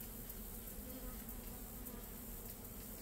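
Honey bees buzzing inside a beehive opened in October, a dense continuous close hum of many bees with no talking.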